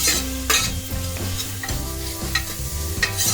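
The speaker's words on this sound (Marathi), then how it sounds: "कढीपत्ता आणि ही ठेचलेली लसूण सगळा भाजून घ्यायचा" Curry leaves, crushed garlic and tomato frying in a pan for Malvani pumpkin bhaji give a continuous close sizzle, with spatula scrapes and stirring knocks coming every half second or so, and nobody speaking.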